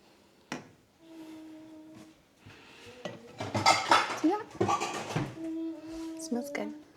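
Glass jars, metal lids and pots clink and clatter in a home kitchen while canning garden tomato salsa, a string of close knocks and rattles with a person talking over part of it.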